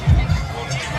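Large crowd at the Meena Bazaar fair in Sector 2, Bhilai, a steady low murmur of many voices with a brief louder swell near the start, close around the listener.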